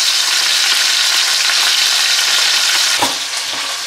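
A leg of wild boar sears in a pan over gentle heat, a steady, loud, dense sizzle and crackle that runs unbroken, with a brief bump of movement near the end and no voices.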